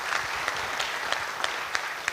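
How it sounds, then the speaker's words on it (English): An audience at a conference applauds a speaker, a dense burst of steady clapping that holds at even loudness for a couple of seconds. "So with a big round of applause,"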